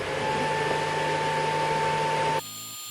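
LaserPecker 4 and LaserPecker 2 laser engravers run together with a steady, loud mechanical hum and faint whine, then the noise drops abruptly near the end as one machine goes quiet.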